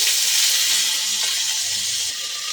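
Beans and carrots tipped into a hot pan with crushed garam masala for a mung dal with vegetables give off a steady, bright hiss of sizzling steam that fades slightly toward the end, close and without talk.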